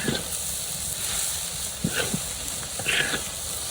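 Roasted chili powder stirred into kalai shak greens frying in a village kitchen pan, a continuous moderate sizzle with a couple of brief scraping stirs.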